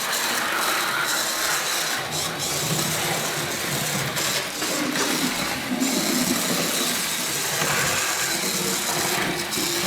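Model locomotive running light on an H&M Duette controller, with no carriage attached, giving a continuous, fairly loud mechanical whirring with ratchety gear clatter that stays steady throughout.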